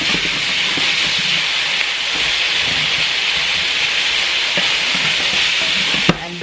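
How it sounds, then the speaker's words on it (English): Carrots stir fried in a hot pan for a chicken stir fry give a steady, loud sizzle and hiss throughout, with a sharp clank of the utensil near the end. "And keep stir frying."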